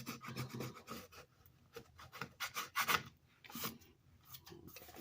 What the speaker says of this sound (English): Burnish that really good.